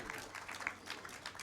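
An audience at a Jain religious discourse in Ashoka Garden, Bhopal, applauds for the parents, a faint, fairly distant patter of many hands clapping steadily throughout.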